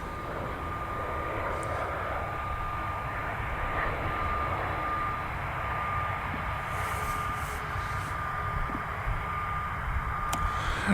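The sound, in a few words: Embraer Phenom medical jet landing on runway 6 left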